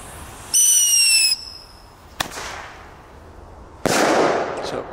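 Thunderking firecrackers go off outdoors: a piercing whistle shrieks for under a second, then sharp, loud bangs burst one after another, the last blast trailing into a crackling rush.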